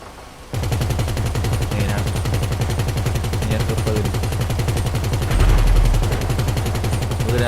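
Rapid automatic gunfire from a weapon in GTA Online, a steady, loud stream of shots that runs almost the whole time, swelling heavier and deeper for a moment near the end.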